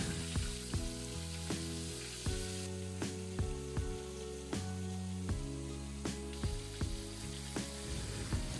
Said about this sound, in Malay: Masukkan sardin satu persatu lepas tu bolehlah goreng sehingga masak dan garing.